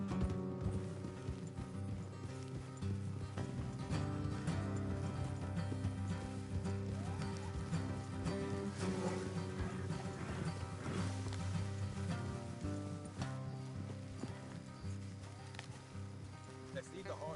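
Horses ridden in a video game clop steadily along a road beneath game music and talk, the hoofbeats fairly faint and continuous.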